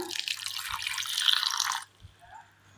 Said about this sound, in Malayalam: ഒരൽപ്പം വെള്ളം ഒഴിച്ചു കൊടുക്കാം